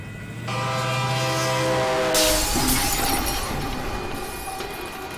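Loud train horn blares as a train rushes past close by at a level crossing, ending in a sudden crash and a sustained roar of the passing train.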